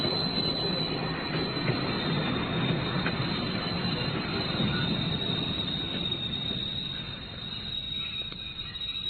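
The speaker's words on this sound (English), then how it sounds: "Quickly, a train's coming." A train rumbles past in a steady, loud roar with a high metallic whine on top, fading slightly toward the end.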